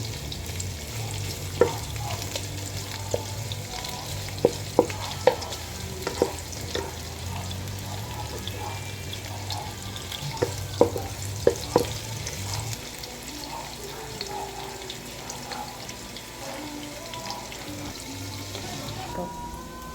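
Garlic sizzles steadily in a pan under repeated scrapes and clinks of a stirring utensil, a close and constant frying hiss running the whole time with no talking.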